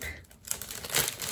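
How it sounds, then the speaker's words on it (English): Plastic packaging tape peeled and crinkled off the wrapping of a pink and blue Loungefly backpack, a short close crackling rip that swells near the end. "If I can take off this tape"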